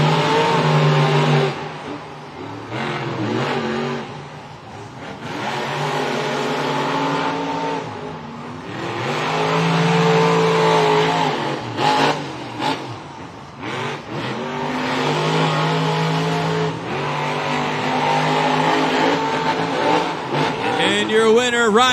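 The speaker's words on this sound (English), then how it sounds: "He knows how to handle this Monster Jam truck" Monster Jam monster trucks roar through a stadium race in Tampa, engines revving hard in long surging bursts with gear-change dips, loud and continuous, while an announcer talks over the din.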